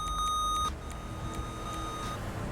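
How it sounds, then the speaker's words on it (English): A steady high-pitched electronic tone with a few short beeps on top from a LIDAR radar gun in the GTA 5 LSPDFR police mod, set against a constant low engine-like hum. "You can also increase the volume of the beeps."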